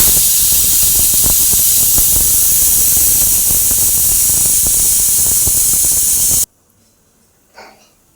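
A pressure cooker whistles loudly while cooking chicken biryani, a dense continuous hiss of escaping steam lasting several seconds before it cuts off sharply, followed by near silence and a faint short puff.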